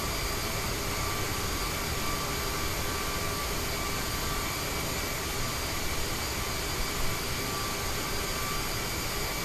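A CRJ jet's APU spooling up after landing, heard as a loud, steady turbine whine and roar that fills the whole stretch without letting up, no voices over it.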